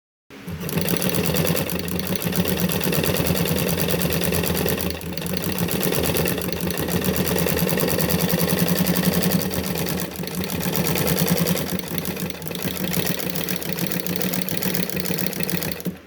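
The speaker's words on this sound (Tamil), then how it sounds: "துணியில் நமக்கு ஒரு தையலுக்கு ஒரு மடிப்பு மடித்து தைச்சு கொடுக்குது." Small Badal sewing machine fitted with a ruffler attachment stitching fabric, a loud, steady rapid mechanical whir and clatter running continuously with brief dips in pace.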